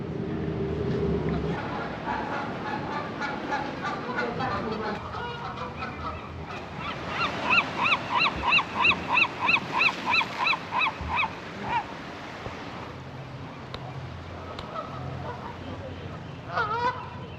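Geese give a rapid run of loud, nasal honks in the middle, with people talking quietly before and after.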